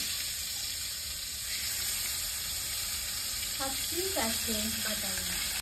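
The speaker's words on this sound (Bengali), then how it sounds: "মাছ ভাজা হয়ে গেছে, নামিয়ে দিচ্ছি" Pieces of bata fish fry in hot oil in a village kitchen, a steady close sizzle and crackle running throughout, with a faint voice near the end.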